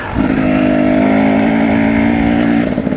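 A cold enduro motorcycle idling on icy ground, a loud, close, steady engine drone with a rough low tone that holds evenly for about three seconds.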